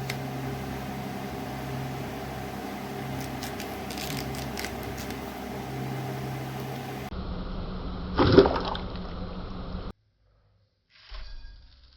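Running water splashes steadily over freshly picked mangoes for about seven seconds, then gives way to a few brief handling noises and a short burst of rinsing near the end.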